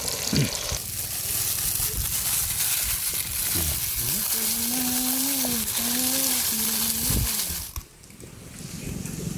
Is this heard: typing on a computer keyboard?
no